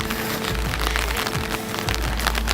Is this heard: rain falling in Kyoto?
yes